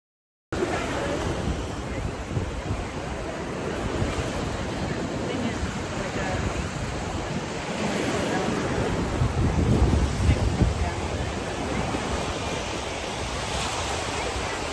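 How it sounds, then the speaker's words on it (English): Ocean waves wash against the shore in a steady broadband hiss, with wind buffeting the microphone and a brief swell of surf louder midway, while people talk faintly over it. "Welcome to the ocean."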